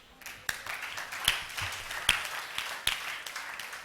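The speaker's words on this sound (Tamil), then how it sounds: "கைத்தட்டு." Congregation clapping during a Tamil church sermon, a faint, thin patter of hands with a few sharper claps standing out at roughly regular intervals.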